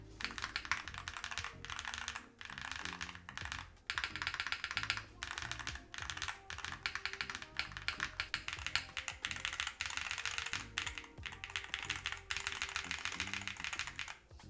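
Typing on a keyboard fitted with Hall effect switch number 23 gives a steady, dense patter of close keystrokes. The clacks are quick and even, with brief pauses between bursts, and are heard alone without talk.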